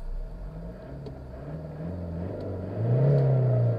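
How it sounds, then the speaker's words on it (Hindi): Toyota Fortuner diesel engine idles with a steady low rumble, then revs up into a louder, heavier truck-like drone near the end, with no talk. "मैं इस गाड़ी की आवाज़ सुनाता हूँ आपको"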